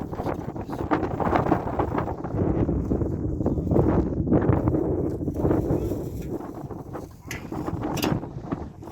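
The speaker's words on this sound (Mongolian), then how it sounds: "Салхитай шуурхтай байна да." Strong, gusty wind buffets the microphone outdoors at a holiday lodge construction site, roaring continuously with rising and falling surges over nearly nine seconds.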